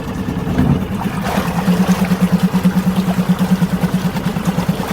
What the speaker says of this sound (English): what I tend to do here then is just put it into gear and make sure everything runs beautifully